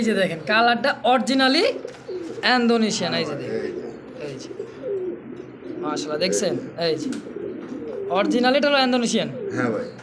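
Pigeons coo loudly and close by in repeated throaty bursts, with several calls overlapping across the stretch and brief quieter gaps between them.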